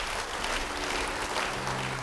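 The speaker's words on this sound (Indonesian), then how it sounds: "Yang mau beri tepuk tangan bagi dia." A church congregation applauds together in a steady, continuous wash of clapping heard at moderate distance, with no talking over it.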